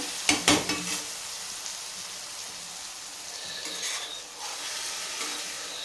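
Broad beans in a masala curry are stirred in a hot pan, with a few sharp scraping clacks at the start and then a steady, close sizzle throughout.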